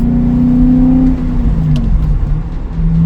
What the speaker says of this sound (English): It's time for a drive in the M5.